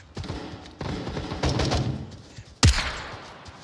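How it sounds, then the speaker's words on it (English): Gunfire in the VR shooter Onward during a police-style raid on a house, heard as a dense run of rapid shots with one sharp, loud crack near the end, amid game noise. "Covering fire for the Onward PD!"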